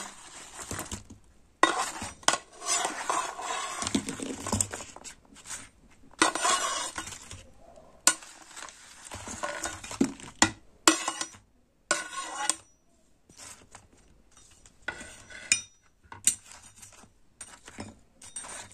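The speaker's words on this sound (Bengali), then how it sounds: "এই দুধের মধ্যে লুচিগুলো দিয়ে দেবো। দুধের মধ্যে সমস্ত লুচিগুলো দিয়ে দেবো।" Fried luchis dropped and stirred into boiled milk in a pan for luchi kheer, giving close, irregular clinks and scrapes of utensil against the pan in short bursts separated by quiet gaps.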